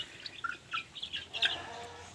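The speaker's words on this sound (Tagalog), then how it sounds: "Gutom na yung manok natin." Hungry backyard chickens cluck and chirp, a run of short, overlapping calls from a few birds nearby, moderately loud, with no one talking.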